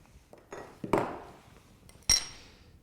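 Scored art glass snaps under running pliers in two sharp cracks about a second apart, close and crisp with a ringing tail, and no talking.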